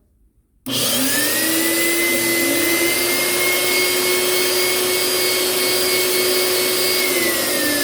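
A loud, high-pitched motorized whine starts abruptly after a brief quiet moment and runs steadily from a Cleon carpet cleaning machine close by.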